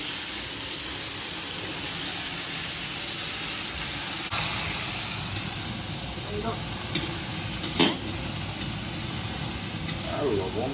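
Chatpati sizzles and hisses steadily in a hot pan at a busy wedding-market stall in Bankura, with scraping stirs and clinks rising partway through over a dense, continuous frying roar.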